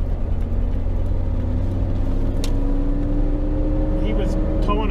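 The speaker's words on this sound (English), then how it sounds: "That big fifth wheel get by me." A vehicle double-towing a big fifth wheel trailer plus a quad trailer passes on a highway heading north to Idaho. A steady road roar and engine whir build as it goes by, with a voice talking over it.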